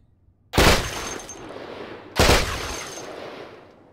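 Two loud, close bursts of automatic gunfire from a drum-magazine gun in the survival game Cataclysm: Dark Days Ahead, each a sharp blast that rings out and decays before the next.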